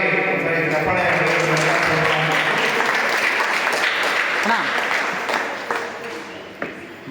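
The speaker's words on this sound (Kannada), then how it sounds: "ಜೋರಾಗಿ ಸರಿ ಚಪ್ಪಾಳೆ" An audience claps loudly for a blindfolded child performer at a stage event. Dense, sustained applause fills most of the stretch, then thins and fades toward the end, with a voice faintly audible underneath.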